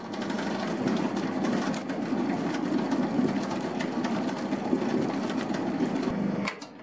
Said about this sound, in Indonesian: langsung saya nyalakan lagi mesinnya, mengadon